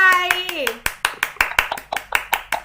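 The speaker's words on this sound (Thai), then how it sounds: "รออะไรล่ะคะก็ปรบมือให้เพื่อนสิคะ" Primary school children in an online English class clap their hands, a quick run of about a dozen sharp, fairly close claps following a brief spoken voice at the start.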